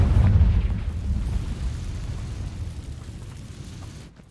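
The Confringo spell explodes in Hogwarts Legacy with a loud, deep boom at the start that rumbles and fades over several seconds.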